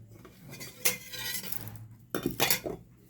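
A knife cutting pork and other ingredients for ginataan on a board, a few soft, scraping chops in two short bursts with quiet gaps, close and with no talk.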